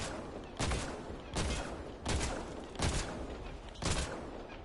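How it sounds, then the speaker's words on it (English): Five evenly spaced gunshots ring out, about one per second, loud and close over a constant wash of ambient noise, as a player shoots through stairs in the sci-fi video game Mass Effect: Andromeda. "Can I shoot through the stairs?"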